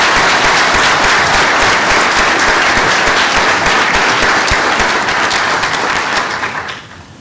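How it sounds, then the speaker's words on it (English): Sustained loud applause from a large convention audience honoring EMS district members, steady dense clapping for about six seconds before fading out at the end. "We have a round of applause for our EMS district members."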